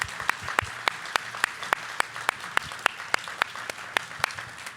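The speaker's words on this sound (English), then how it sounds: "let's have a round of applause for the first part of the panel" Audience applause at a TooManyGames 2025 voice acting panel, heard as steady, evenly spaced claps standing out over a low, diffuse crowd wash and holding a regular rhythm throughout.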